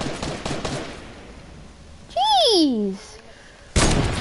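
Video game gunfire during a trick shot attempt, with loud bursts at the start and end and a young voice letting out a short exclamation in between.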